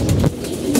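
Pigeons cooing in a loft on a hot day, a short, close, low throaty coo that swells and fades, with no talk over it.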